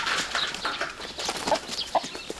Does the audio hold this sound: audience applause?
no